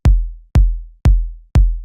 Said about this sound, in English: A simple so-called 4 on the floor kick just sounds like this